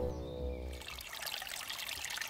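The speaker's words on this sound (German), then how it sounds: "sauberes, fließendes Wasser" Clean water flowing in a forest stream, a steady close trickle and splash filling the clip after a low hum fades out in the first moments.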